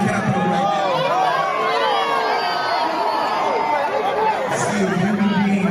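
Dense crowd noise at a Juneteenth celebration in Washington, DC, near the Capitol: constant overlapping chatter, shouts and cheering voices, steady and close throughout, with no single speaker standing out.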